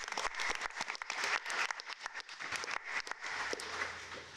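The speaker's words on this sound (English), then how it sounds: "we can clap for Cleon" Audience applause at a Newport News community forum on homelessness, a steady crowd clapping for a councilman that fills the whole stretch at moderate volume with no talk.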